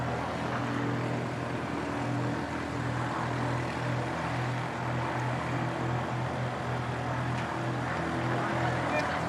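An Emirates airliner on final approach at Christchurch Airport hums as a steady, moderately loud engine drone with a low tonal whine, continuous throughout, with faint voices in the background.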